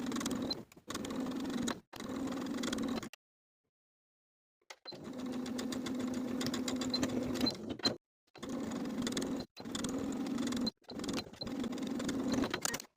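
A sewing machine stitches hem tape onto a top in several bursts of steady mechanical whirring, separated by short pauses and one longer silence.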